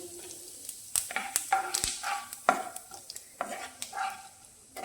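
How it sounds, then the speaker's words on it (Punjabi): Half a spoon of cumin seeds crackles in hot oil in a pan while making besan bhurji, a busy irregular sizzle with sharp pops and a few spoon clinks against the pan, close and fairly loud. "ਤੇਲ ਜਿਹੜਾ ਗਰਮ ਹੋ ਚੁੱਕਾ ਹੈ ਇਹਦੇ ਵਿੱਚ ਆਪਾਂ ਅੱਧਾ ਚਮਚਾ ਜੀਰਾ ਪਾ ਦਿੰਨੇ ਆ"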